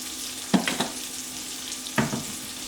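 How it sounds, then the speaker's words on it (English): Philly cheesesteak meat, seasoned with black pepper and mineral salt, sizzles in a pan beside asparagus, a soft steady fry broken by two sharp bursts of stirring. "You can see it sizzling."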